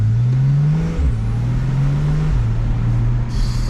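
Porsche with an M-Engineering stage 2 tune accelerating hard, a loud close engine drone rising in pitch through each gear, with two quick shifts dropping the revs before it climbs again.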